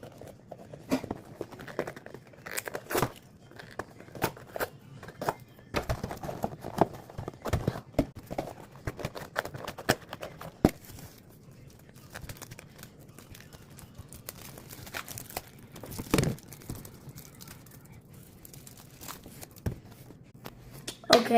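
Fruit Blox snack packages are opened in a rapid flurry of rustling plastic and crinkling wrappers, with quick snaps and pops throughout and quieter gaps, no speech.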